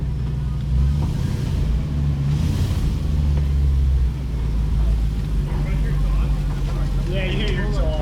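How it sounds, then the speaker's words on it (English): An off-road vehicle on a rocky trail at Fern Ridge, AOAA, its exhaust giving a steady low close rumble throughout. "Yeah, you hear your exhaust."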